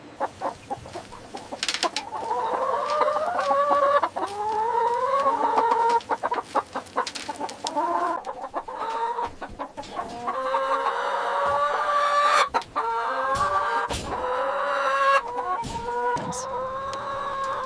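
Leghorn hens cluck and squawk continuously inside a large caged poultry barn, many birds overlapping in a dense, busy chorus with occasional louder calls, steady and close throughout.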